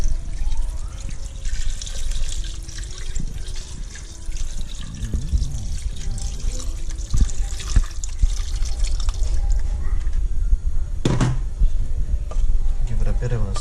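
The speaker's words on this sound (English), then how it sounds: "I will add some water just to cover the chicken up" Water poured into a cooking pot to cover chicken pieces for a Malaysian village dish, running and splashing steadily for several seconds with a brief louder gush near the end, amid outdoor kitchen clatter.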